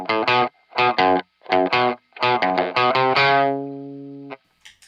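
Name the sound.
electric guitar through overdrive pedal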